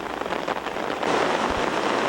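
Steady rain pours down on a river rafting trip with a dense, continuous hiss, growing slightly heavier partway through, with no voices.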